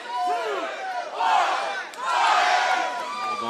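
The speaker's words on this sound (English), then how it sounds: "We're ready to do this, crowd. Let's go. Count it down." A crowd at an antweight robot combat tournament shouts a countdown together, loud and roomy, in three swelling surges of massed voices.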